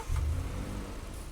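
A car appears and its engine revs in the Roblox game, a brief mid-pitched surge that rises quickly and then settles into a steady running drone.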